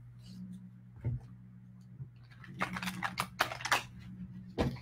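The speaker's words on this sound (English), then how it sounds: "That was a really good shuffle." Soft riffling and flapping of tarot cards being shuffled, a few faint taps then a denser burst of quick papery flutters, close by.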